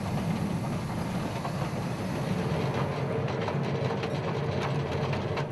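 A narrow-gauge steam train on a line in Czech Silesia runs along the rails with a steady rumbling roll and faint hiss, moderately loud and continuous, with no talk.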